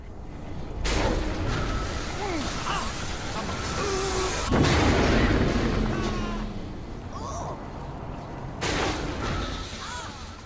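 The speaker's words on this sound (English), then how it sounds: "Another one of our fun new weapons that we're introducing is the Black Hole Launcher" Black Hole Launcher firing in Saints Row, a loud whooshing blast with rumbling low end, followed by swirling effects and a second burst near the end, over game background noise.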